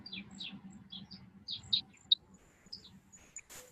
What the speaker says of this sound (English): We have some nice birds there.